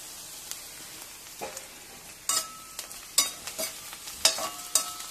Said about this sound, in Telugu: ఓన్లీ బెండకాయలు మట్టికి కొంచెం నూనెలో మగ్గబెట్టేద్దాము